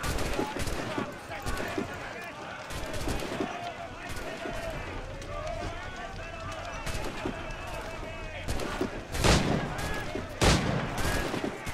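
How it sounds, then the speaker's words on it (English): Gunfire from Assassin's Creed IV gameplay: scattered gunshots and sharp bursts crack through a busy game soundscape, with a couple of louder shots near the end, under a player talking throughout. "I just want to shoot him from here"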